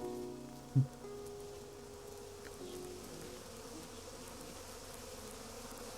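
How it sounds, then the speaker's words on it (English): Bees buzzing in a film scene, a faint, steady droning hum throughout, with one brief soft thump near the start. "Oh, I thought those were flies for a second. No, those are bees."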